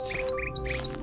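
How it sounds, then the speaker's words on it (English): Birds chirp loudly in the video game Amnesia: Enigma, with repeated short bright tweets in quick bursts over a steady ambient hum, close and prominent throughout. "That birds are really loud"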